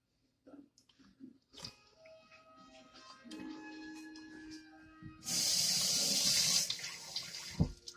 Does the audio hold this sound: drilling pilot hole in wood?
no